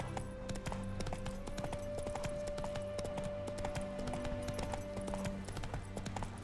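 Rhythmic clip-clop of galloping horse hooves in The Witcher 3 runs steadily throughout, layered with a sustained tone and busy game sounds, with a faint voice underneath.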